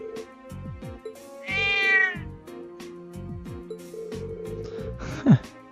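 A cat meows in The Legend of Heroes: Trails of Cold Steel, several distinct meows over game music, the longest a drawn-out cry near the start and a sharp one near the end.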